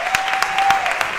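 Audience in a packed theatre at a music competition final claps, a brief burst of scattered applause with a few distinct sharper claps standing out over the crowd.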